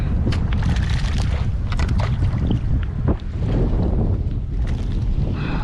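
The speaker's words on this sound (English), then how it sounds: "This wind's not fun." Wind buffets a fishing boat drifting for fluke off Long Island, a steady loud low roar of gusts and microphone wind noise with light splashes and rattles throughout, no talking.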